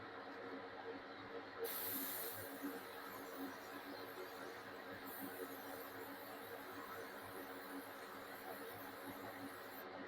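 Aerosol spray paint hisses onto a plastic shepherd blow mold in steady, continuous bursts, close and moderately loud, with brief pauses between passes.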